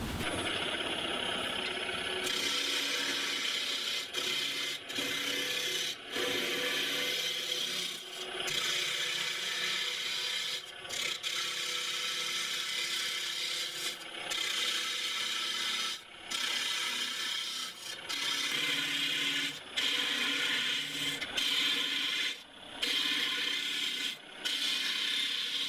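A wooden disc turned down on a lathe, with a continuous close scraping and rubbing of the cutting tool against spinning wood, broken by brief pauses as the tool is lifted and reapplied.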